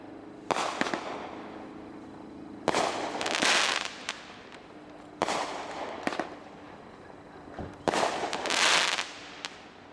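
An 8-shot firework cake, 8's Angel Rising, fires alternating willows with flashing tails: four sharp launch thumps spaced a few seconds apart, each followed by crackling, sizzling bursts heard from a short distance.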